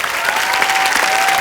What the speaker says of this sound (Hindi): हमारे साथी कलाकारों के लिए जोरदार तालियां।